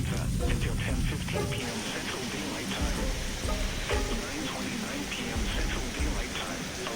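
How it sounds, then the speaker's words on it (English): Hail and rain pound down hard during a tornado storm at an RV campground, a dense, loud, continuous roar of impacts with sharper individual hits scattered throughout. "recording the hail coming down about the time the lightning strike hit"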